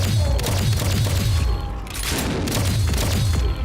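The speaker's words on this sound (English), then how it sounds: "I love that we're just lighting up just from the gunshots" Rapid bursts of gunfire from the Fallout TV series crack and boom in dense volleys, briefly dropping off before another barrage resumes, loud and close.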